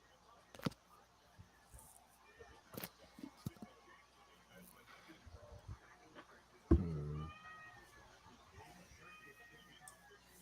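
A feisty cat meows faintly in a quiet room, with a few short, rising cries toward the end amid soft background sounds.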